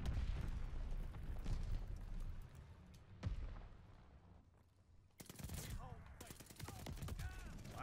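Rapid automatic gunfire in Call of Duty: Vanguard multiplayer, dense bursts of close shots with a thud and some game sounds mixed in, growing sharper and crisper toward the end, under a busy game mix.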